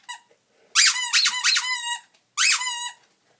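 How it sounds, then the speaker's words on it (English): A small squeaker sewn inside a handmade furry suit tail is squeezed. It gives a close, loud burst of rapid squeaks, then a short pause and one more squeak, with no talking. "I put a little squeaker in it."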